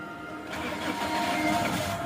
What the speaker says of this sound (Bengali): এখন আমরা গাড়িটা স্টার্ট দিব।